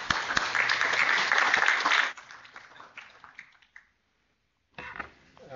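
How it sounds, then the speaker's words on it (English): Applause from an audience at a medical department grand rounds lecture, a dense burst of clapping for about two seconds that thins into scattered claps and fades, followed by quiet and brief noise. "let's give him a round of applause"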